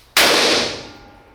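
An AEA Megalodon airgun round fired into a wooden block: a single sharp, loud crack followed by a ringing decay that fades over about a second, no talking.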